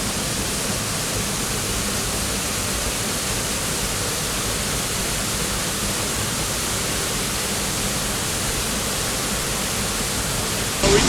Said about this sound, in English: This is Grotto Falls. It is a 20-foot waterfall, and you can walk behind it,